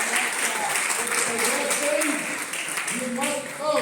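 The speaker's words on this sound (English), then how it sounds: "A big round of applause." Audience applause at a community meet-the-candidates event hosted by a homeowners, tenants and business civic association in Astoria, a steady patter of many hands filling the room, with voices speaking over it.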